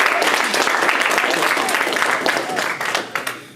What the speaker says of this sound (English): I want us to give a big round of applause to the Student Life people.